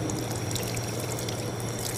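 Water pours steadily over feet during ablution (wudu), a continuous close splashing trickle with no talking.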